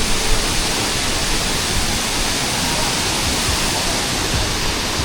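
Mantayupan Falls, a long waterfall in Barangay Campangga, Barili, Cebu, roars loud and close as a thick, constant rush of falling water that fills the whole clip.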